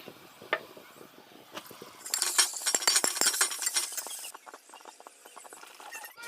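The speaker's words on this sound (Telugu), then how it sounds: "ఇప్పుడు మటన్ ముక్కలు వేసుకుందాం." Mutton pieces go into a pan with onions, setting off a bright sizzle that swells for about two seconds, surrounded by light clinks and scrapes of a spoon against the pan, close and moderately loud.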